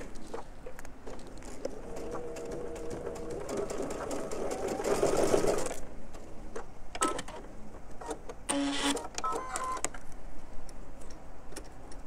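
Sewing machine running in steady stretches while stitching a scant quarter-inch quilting seam, a close, even mechanical whir with short pauses and a few clicks between runs.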